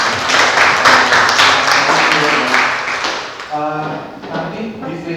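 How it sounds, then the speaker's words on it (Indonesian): A room of participants at a young entrepreneurs' training workshop in Karangasem claps together, a dense burst of applause that fades gradually toward the end while voices mix in underneath. "Oke, tepuk tangan dulu dong."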